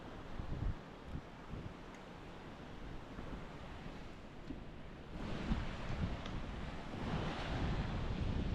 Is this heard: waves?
yes